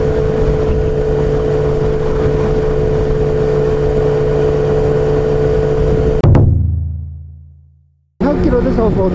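Steady loud wind roar and engine drone inside a jet helmet on a motorcycle at 80 km/h, cutting abruptly to a descending low hum, near silence, then resuming.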